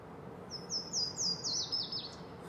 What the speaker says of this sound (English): I see the bird from here. I can see him right above me.